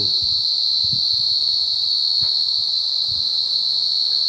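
Field crickets chirp at night at a Buddhist temple in Chae Hom, Thailand, in a continuous high-pitched trill, steady and unbroken, with a few faint low knocks underneath.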